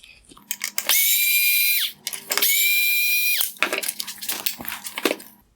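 Two T20 Torx screws are driven out of a 2012-2016 Audi A6 bi-xenon headlight reflector with a powered driver. Two steady, high whining bursts of about a second each are separated by light clicks and handling rattles, close and moderately loud.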